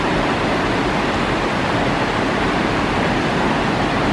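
The Falls River pours and rushes steadily in a loud, unbroken wash of broadband water noise, close and constant with no other sounds rising above it.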